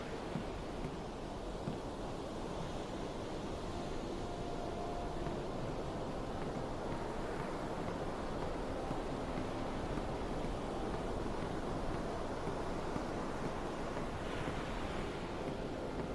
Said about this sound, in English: This water's pretty rough. Keeps coming up over the deck.